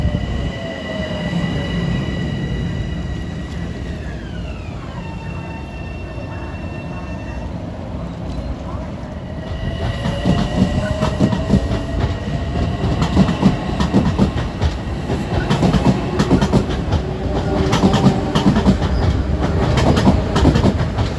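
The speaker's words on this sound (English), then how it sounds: "Here's train number 739 for Harmon at 3:55." Metro-North train 739 to Harmon rolls through Scarborough station, a loud continuous rumble of wheels and cars with rising clatter and a high squeal as it passes close by, without any talk.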